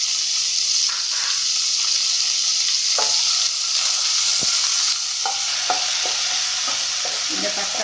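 Ginger garlic paste frying in a pan for restaurant-style chana masala, a constant bright sizzle broken by scattered spoon scrapes and clicks, close and alone.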